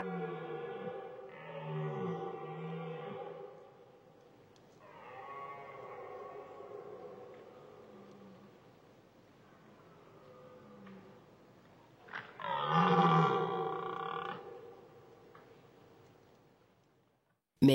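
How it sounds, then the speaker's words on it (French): A red deer hind grunts and belches at dawn in the Aubrac highlands, giving several drawn-out, low, rasping calls separated by quiet gaps. The calls are faint and distant, and the last one is louder. "une biche qui rote aussitôt pour manifester son"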